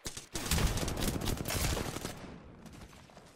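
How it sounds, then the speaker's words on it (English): Rapid bursts of automatic gunfire in the Apex Legends battle royale shooter, loud and dense, sustained for a few seconds before tapering off. "Getting shot at."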